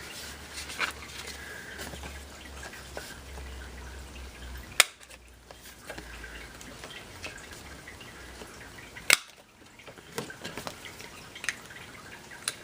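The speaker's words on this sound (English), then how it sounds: "I think I want to round those corners. So I need my corner rounder." A handheld corner rounder punch trims the corners of patterned paper for a note card, giving two sharp, isolated snaps several seconds apart against a quiet room.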